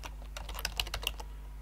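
Computer keyboard typing, a quick burst of crisp close keystrokes in an irregular rhythm that stops partway through, with no talking.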